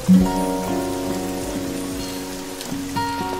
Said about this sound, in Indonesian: menerjang derasnya hujan